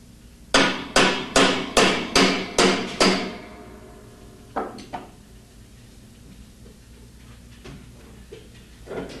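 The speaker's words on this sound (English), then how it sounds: "Remove the large hex nut using part number 306P4 hex wrench and a hammer." A hammer strikes a hex wrench on a washing machine's large hub nut: seven even, ringing metal blows in quick succession, then a few lighter taps and small clicks.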